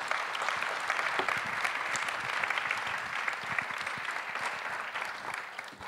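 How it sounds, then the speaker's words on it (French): A lecture audience applauds a speaker arriving to present research on collective behavior, producing sustained, dense clapping from many people, steady and fairly loud for several seconds. "nous pouvons applaudir"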